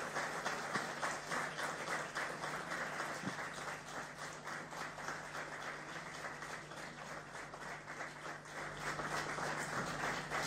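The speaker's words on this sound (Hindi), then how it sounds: "आपकी तालियों की गड़गड़ाहट बिल्कुल रुकनी नहीं चाहिए।" Sustained, dense applause from a large audience at an honoring ceremony for HPSC rank holders in Chandigarh, steady crowd clapping continuing for several seconds without a break.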